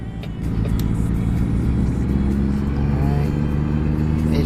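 A truck rolls along the road nearby, its engine giving off a steady, loud, low rumble with a faint rise in revs. There is no talking.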